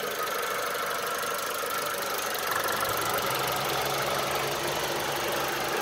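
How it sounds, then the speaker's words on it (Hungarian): A Mitsubishi Lancer 1.3 GLi engine idles with its power steering pump running, a loud, steady mechanical hum with a faint whine and rattle heard up close under an open bonnet, with no one speaking. "Szervosszivattyú itt szalad, könnyebb legyen a kormányzásunk"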